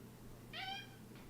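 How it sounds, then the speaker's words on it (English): A cat gives one clear, drawn-out meow at moderate distance, followed by a fainter second call, over a low steady background hum in an indoor room. "I can't say no to that fucking meow."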